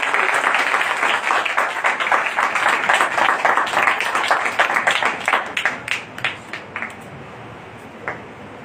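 A church congregation applauds, the dense clapping gradually thinning out into scattered individual claps that trail off near the end.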